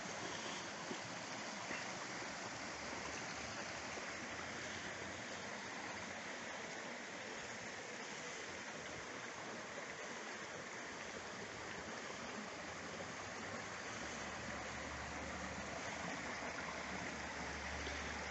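A river in the Grimescar valley, carrying washed-off iron deposits, flows with a steady, even rush of water that holds throughout, fairly soft and with no voices over it.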